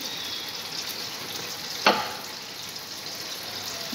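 Spices frying in hot oil with a little added water in a pan for golabari mutton, a steady close sizzle with one sharp hiss burst midway, no voices.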